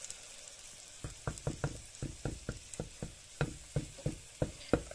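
Thick batter for cheese and sesame flatbreads frying in hot oil in a pan on an electric stove, giving a quiet, rapid series of crackling pops and spits at a steady irregular rhythm.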